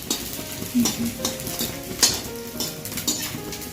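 Dry roasting in a pan without oil for methi pak, with a metal spoon stirring and scraping in irregular bursts over a faint sizzle, close by and with no voices.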